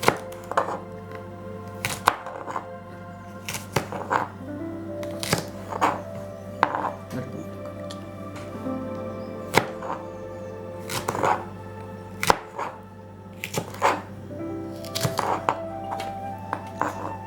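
A knife cuts okra diagonally on a cutting board, a series of crisp, irregular chops with sharp thunks against the wood that come every second or so, close and clear over a faint steady hum.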